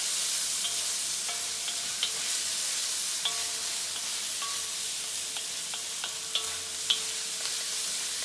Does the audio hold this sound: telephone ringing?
no